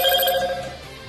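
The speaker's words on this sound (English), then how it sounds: "This fucking phone is trying to shut me up." A telephone rings once, loud and close, its bright electronic tone fading away over about a second, with no speech.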